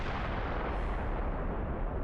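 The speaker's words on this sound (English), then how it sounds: "And I'll waste the plasma torpedo to finish him off." A plasma torpedo fired at a lone freighter in the Star Fleet Command space combat game, heard as a loud, dense, sustained roaring blast that fills the whole clip with steady energy and no voices over it.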